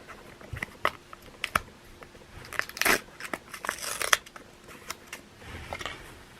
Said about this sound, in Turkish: Evet o zaman hemen hızlıca açalım arkadaşlar emoji paketimizi.